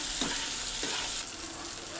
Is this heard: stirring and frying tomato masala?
yes